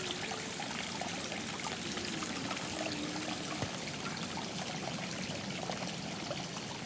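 A stream flows straight into an abandoned hotel in the Catskills, a steady, dense rush and trickle of water that fills the space continuously without pause.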